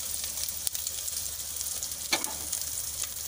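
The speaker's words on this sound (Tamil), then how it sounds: "எண்ணெயில் வதக்கணுங்க" Mustard seeds, dried red chillies, crushed cumin, pepper and garlic sautéing in oil, a steady close hiss with a few sharp pops and crackles.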